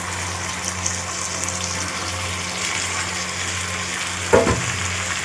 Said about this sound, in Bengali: মশলা থেকে তেল প্রায় ছেড়ে এসছে এমতো অবস্থায় পুরো মিশ্রণটাকে আমি ঢেলে দেব